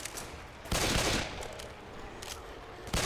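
Gunfire in the video game Lockdown 2, heard as several loud broadband bursts of shots, one near the start, a longer one around the middle and another at the end, over continuous game noise.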